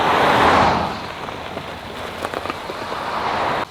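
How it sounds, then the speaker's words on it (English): A small waterfall near Lake Superior rushes steadily, a broad continuous splashing roar heard up close, with a few faint clicks and knocks over it and no talk. "So we just got to a little waterfall that was across the street from that other little pull-off."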